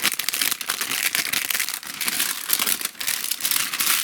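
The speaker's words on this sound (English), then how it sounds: "I'm going to be the first person to tear open" Plastic wrap is torn and crinkled off a 1988 TDK MA metal cassette, with crackling bursts and rustles close up that carry on for several seconds with no one talking.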